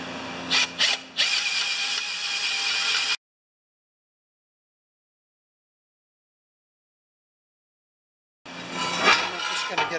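A power drill bores quarter-inch holes in a metal cart, with a few short loud bursts of drilling at the start, a long silent gap, then more drilling at the end.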